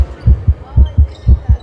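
A fast heartbeat thumps in quick paired beats, loud and close, in a rapid steady rhythm.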